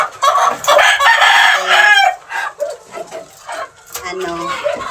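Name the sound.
pet gamefowl chickens making noise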